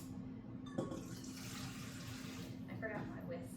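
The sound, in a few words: pouring pre-warmed water into a bowl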